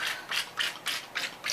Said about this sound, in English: I'm just going to squirt my olive oil from my squirt bottle